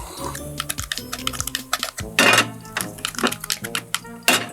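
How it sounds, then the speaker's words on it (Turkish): Rapid knife chops through eggplant on a cutting board, irregular sharp taps with a few heavier knocks, close and fairly loud, with no voices. "Patlıcanı da doğrayalım."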